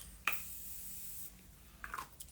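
Makeup setting spray misted from a bottle over a finished face: one short, soft hiss of about a second, quiet and close, followed by a few faint small handling clicks.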